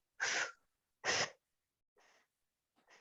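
Quick panting breaths are pushed out through pursed lips during a breathing exercise: two strong, close airy bursts, then two softer ones.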